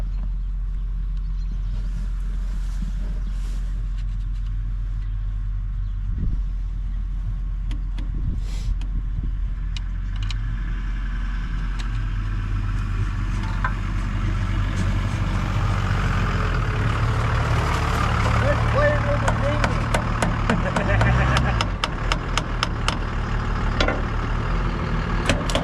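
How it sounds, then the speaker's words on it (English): Service truck engine approaching at a tractor parts yard, a low idling rumble that gradually grows louder and rougher, with a brief hiss like an air brake near the end. "It sounds like our service truck is coming."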